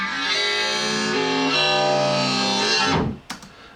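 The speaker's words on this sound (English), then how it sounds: "took like a sample of a gun and then reversed it and then stretched it" A gunshot sample, reversed, time-stretched and resampled for a drum and bass rap beat, swells into a sustained, distorted buzzing tone for about three seconds before cutting off abruptly, followed by a brief faint click.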